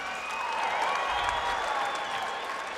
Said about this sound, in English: how about a nice round of applause for these two warriors here tonight in our co-main event?